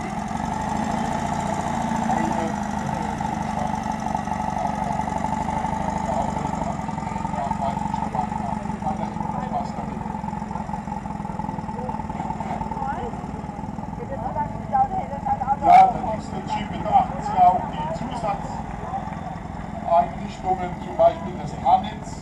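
A 1943 vintage vehicle with a 3.2-litre, 60 hp engine idles steadily at a classic car outing in Rülzheim, a continuous low rumble with faint voices and a few clicks toward the end.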